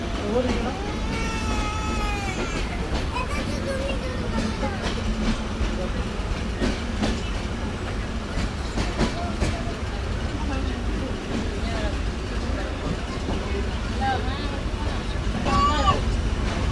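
A passenger train travelling in northern Bangladesh between Joypurhat and Natore runs through small stations without stopping, with steady wheel rumble and rail clatter from inside the coach, overlaid by a voice talking and scattered chatter from passengers.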